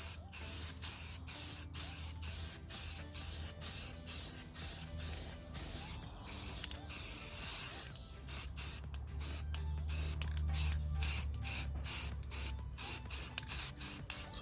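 Aerosol spray can painting car wheel rims black on a Smart car, a long series of hissing bursts with brief gaps between them, close and steady, with no talking.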